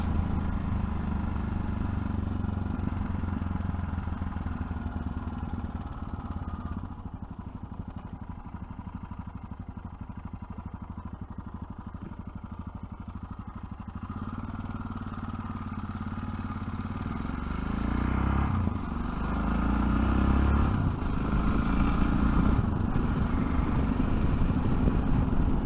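A Yamaha 660 Tenere motorcycle engine chugs while riding. It gives a steady, close, low rumble that swells and eases slightly with throttle changes over the whole ride.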